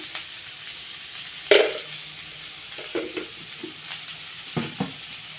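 Turmeric and coriander powder being stirred into a frying Kerala-style egg roast masala, with soft scraping and low sizzle, a sharper clatter near the middle and a few light spoon knocks toward the end.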